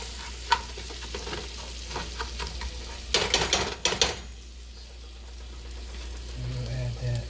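Food browning in a pan sizzles steadily and quietly, with a loud burst of stirring and clattering around the middle before it settles back to a soft fry.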